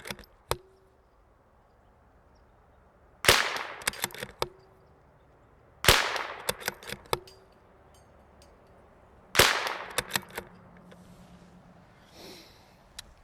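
A CZ 457 bolt-action rifle fitted with a Volquartsen extractor fires four sharp, loud shots a few seconds apart. Clicks and clatter of bolt cycling follow each shot against a quiet outdoor background.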